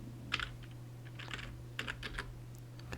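Short bursts of typing on a computer keyboard while entering a web address into a browser, soft clustered keystrokes with brief pauses, close by over a steady low hum, no talking.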